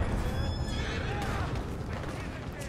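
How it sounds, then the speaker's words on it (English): A horse neighs and whinnies in Red Dead Online, up close and fairly loud over dense game background noise, with hoof clip-clop and voices mixed in. "There goes my horse."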